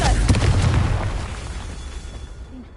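The Confringo fire spell in Hogwarts Legacy goes off as a deep, booming explosion that hits hard at the start, then rumbles and fades away over a couple of seconds.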